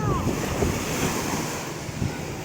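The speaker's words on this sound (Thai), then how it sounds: "คอมิกกำลังกำลังนั่งให้คลื่นซัดเล่นอยู่" Sea waves wash up the shore in a steady surge, mixed with wind noise on the microphone, close and continuous.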